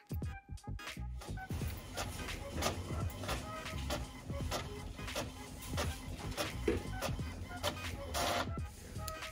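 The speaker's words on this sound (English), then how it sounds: "And I'm gonna print." Inkjet printer feeding and printing on glossy photo paper at best quality, a steady mechanical whir with repeated rhythmic carriage passes and clicks running through the whole stretch, fairly close and moderately loud.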